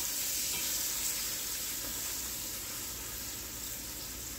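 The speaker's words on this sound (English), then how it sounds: "Or you want to sear it." Beef short ribs sear in a hot pan in a kitchen, a steady close-up hiss and crackle of sizzling fat that runs continuously without talk.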